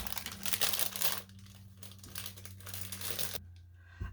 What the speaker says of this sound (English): Okay, so I took everything out of the package. It was really noisy